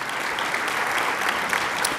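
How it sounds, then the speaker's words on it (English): A round of applause from an audience at a 175th anniversary event, a dense, even patter of many hands clapping throughout, fairly loud and without speech over it. "Y'all give Eric Gukan a round of applause."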